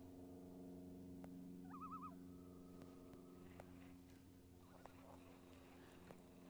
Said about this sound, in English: I hope you guys can hear these birds.